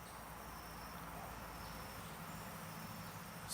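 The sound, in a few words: mosquito buzzing outdoors among trees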